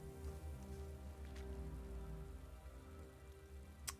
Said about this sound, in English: because it's raining